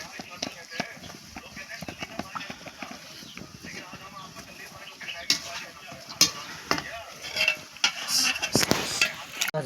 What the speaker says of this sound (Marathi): बारके सोडायचे, लय मोठी सोडायची नाही